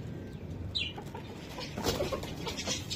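A hen clucks a few times in short bursts amid background noise and faint bird sounds, near and moderately loud.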